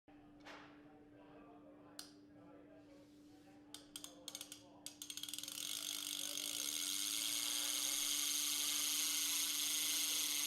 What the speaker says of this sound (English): you will be able to hear the locking ratchet function while lowering